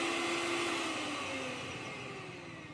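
A mixer grinder running with a damaged jar whose base is cut, giving a steady high motor whir with a rattling edge that slowly fades in loudness, with no talk.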